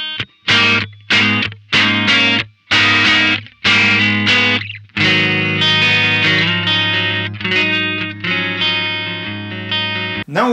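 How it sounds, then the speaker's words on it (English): Distorted electric guitar played through a Tech 21 PL1 Fly Rig with the bite switch engaged for extra top end and drive, chugging palm-muted chords in short choppy bursts, then ringing sustained chords, loud and alone. "You have the option to engage this bite switch, which gives you a little bit of more top end and actually a little bit of drive."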